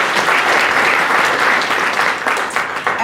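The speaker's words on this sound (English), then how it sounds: "A round of applause." An audience at a Surrey Board of Trade young entrepreneurs event gives sponsors a round of applause, loud, dense clapping filling the whole stretch.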